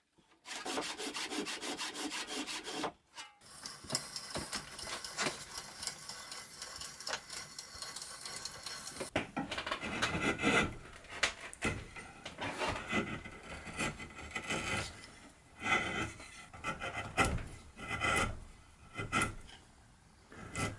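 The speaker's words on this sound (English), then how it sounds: "Here I could saw all the way down, effectively cutting two sockets at once" A hand saw cuts sockets into a wooden octagonal table column, with steady, rhythmic rasping strokes that run continuously, close and clear.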